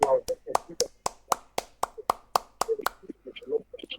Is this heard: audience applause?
yes